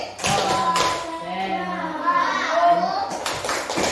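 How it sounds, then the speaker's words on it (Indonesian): A school class performs the Indonesian concentration clap routine, children's voices chanting together in rhythm with sharp hand claps and taps scattered through, close and fairly loud. "Kita lanjutkan sebelum itu kita tepuk konsentrasi."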